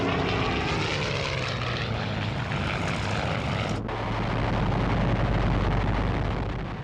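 Propeller engines of RAF aircraft from World War 2 drone loudly as they fly overhead, a steady roaring rumble with a brief break before the noise swells again.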